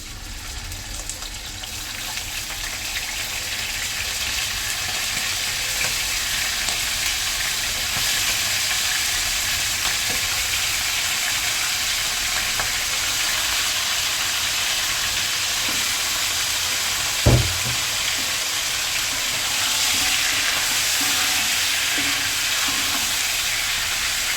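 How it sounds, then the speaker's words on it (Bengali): Chicken pieces fry in oil with a steady, dense hiss that carries on for the whole stretch. It is close and even, with one brief clunk partway through and no voices. "এই মুরগির মাংসগুলো আমি ভালো করে এই তেলে ভেজে নিব।"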